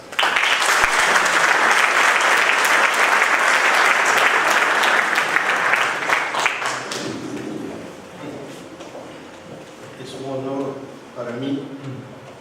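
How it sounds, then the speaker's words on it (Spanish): At a formal tribute ceremony, the audience gives a loud, dense burst of applause that dies away after about seven seconds, then a voice speaks over the quieted room. "Igualmente lo recibimos con aplausos."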